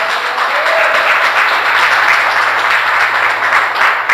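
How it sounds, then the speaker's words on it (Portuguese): A church congregation gives a strong, steady round of applause during a Portuguese-language evangelical service, a dense, even wash of clapping that holds at full level throughout with no pause. "Pode aplaudir forte."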